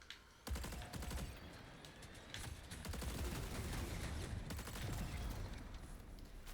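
Turret fire in the video game Marathon: a sustained, rapid-fire barrage of automatic shots that starts abruptly and keeps hammering away, with dense overlapping bursts and no talking.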